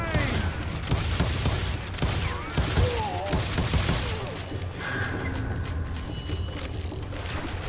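Gunfire in the western game Call of Juarez: Gunslinger, a dense barrage of shots with ricochet whines and mechanical clatter, loud and busy throughout.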